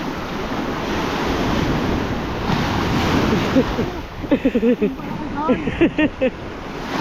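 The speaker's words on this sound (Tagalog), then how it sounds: "nakakatakot ang lakas ng alon" Strong surf pounds the coast of Cagayan in the Philippines, a loud steady roar of breaking ocean waves with heavy wind buffeting the microphone, and voices talk briefly near the end.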